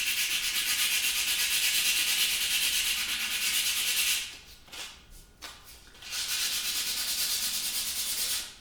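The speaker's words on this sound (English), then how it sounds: "we're just going to lightly sand down that scratch here" Sandpaper of 100 grit rubs lightly over a scratch on oak, a steady close scraping hiss that pauses briefly in the middle with a few short strokes before resuming.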